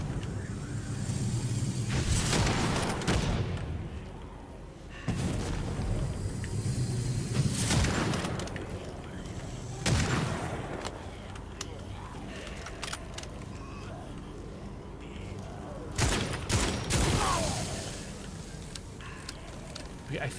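Repeated heavy gunshots in the single-player extraction shooter Witchfire, spaced every couple of seconds as loud booming blasts over a steady rumbling game background, with someone talking between shots.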